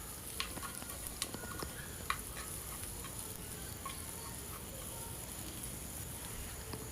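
Green chillies fry in a pan for biryani, giving a steady soft sizzle with a few light clicks of stirring, fairly quiet and with no talk over it.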